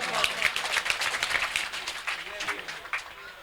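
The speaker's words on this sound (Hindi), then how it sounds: "आप ज़ोरदार तालियों से इस्तक़बाल करें।" Audience applause welcoming a poet at a kavi sammelan mushaira during an Urs mela in Muradnagar, Ghaziabad: steady, dense clapping from a crowd, moderately loud and continuous throughout.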